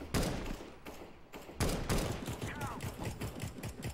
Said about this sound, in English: I just started shooting where I saw muzzle flashes